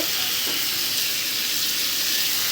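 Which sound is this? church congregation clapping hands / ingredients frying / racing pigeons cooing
ingredients frying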